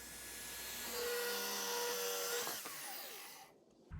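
A power saw whines as it cuts through a slab of live edge wood for a vanity build, a steady high-pitched drone for about three seconds that winds down and then goes quiet.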